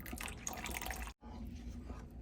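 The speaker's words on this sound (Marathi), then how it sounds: "तर यात आपण अजून पाणी घालूया" Water poured into a pot of cooking sprouted moong mixed with buttermilk, a steady close splashing and trickling with faint drips, running for about a second before a brief break and then softer liquid sounds.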